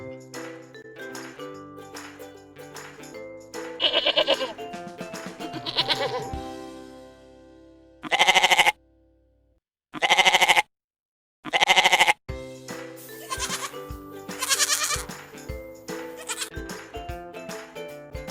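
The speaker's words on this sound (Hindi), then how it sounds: "बकरी मिमियाती है और अंग्रेजी में इसे कहते हैं द गोट ब्लीड्स।" Goats bleating in a series of loud, close cries, some long and wavering, with short pauses and a near-silent gap midway, alone without talk.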